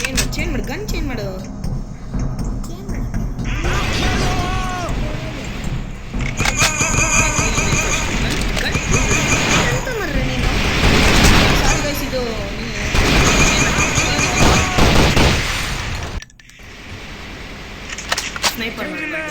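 A shooting video game fills the scene with dense, loud gunfire bursts and engine-like game noise, while players talk over the action throughout.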